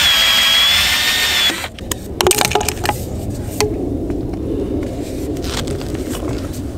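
A power tool whines steadily, then cuts through a glued pipe sweep with loud, close cracking, snapping and grinding bursts, followed by scraping and handling noise; no talk.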